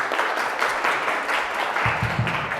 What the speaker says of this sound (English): Applause, guys.